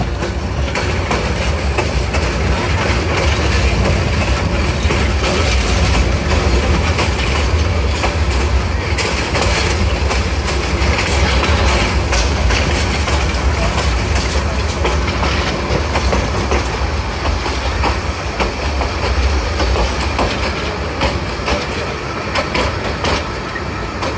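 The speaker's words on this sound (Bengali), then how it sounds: "আমাদের ঢাকা অভিমুখী আন্তনগর কিশোরগঞ্জ এক্সপ্রেস ট্রেনটি এখন সরারচর রেলওয়ে স্টেশনে প্রবেশ করছে" The Kishoreganj Express, a Dhaka-bound intercity train, rolls into Sararchar railway station with a loud, continuous rumble and rattling wheels heard from on board, a faint voice under the noise.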